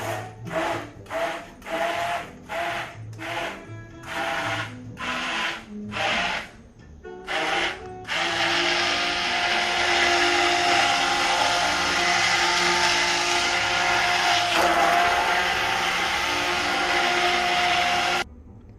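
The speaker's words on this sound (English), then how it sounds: "I'm just going to go ahead and put in my blender to start mixing everything together" A blender pulses in short bursts, then runs continuously with a loud, steady whir for several seconds before cutting off, blending potato-based caldo verde soup.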